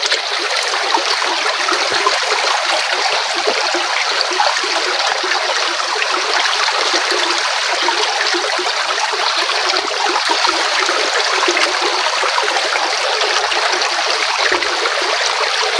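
Running water streams steadily as hands are washed before a meal in a rural outdoor setting, giving a loud, continuous close-up rush and splatter with no pauses.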